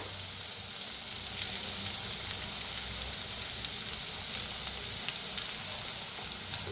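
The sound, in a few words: potatoes frying in a pan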